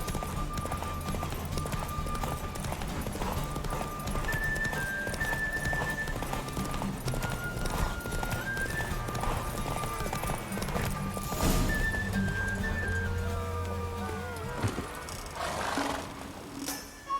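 Horses gallop in a race in the video game The Witcher 3, a dense continuous drumming of hooves with occasional whinnies and faint game voices over steady background music.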